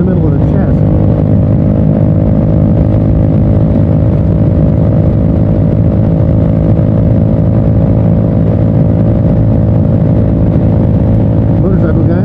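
A motorcycle engine drones steadily and loudly while riding in commuting traffic, a continuous low rumble with wind noise and no clear changes throughout.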